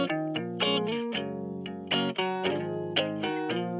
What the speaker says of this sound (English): So I really want to put the radio waves preset on here.